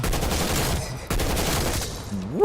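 Rapid gunfire in Call of Duty Black Ops Cold War zombies mode, a dense continuous burst of shots at close range, with a brief gap before the firing resumes and a rising electronic tone at the end.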